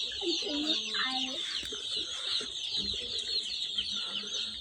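A large batch of newly delivered broiler chicks chirps in a constant high-pitched chorus close by, with a few louder peeps and low background noise mixed in.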